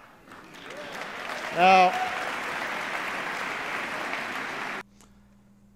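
A large audience at a political address on a health care plan, including two well-known politicians, breaks into sustained applause that swells, holds steady for a few seconds and then stops abruptly, following a brief spoken word.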